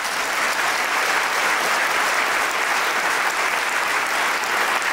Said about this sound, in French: J'aimerais beaucoup qu'on applaudisse la SODEC et Téléfilm.